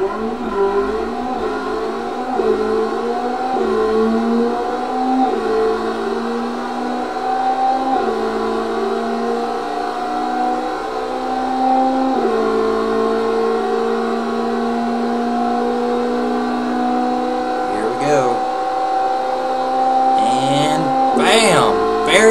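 A simulated car engine in an engine-building video game revs hard on a long straight, a loud sustained high-pitched whine climbing steadily through gear shifts, with someone speaking over it.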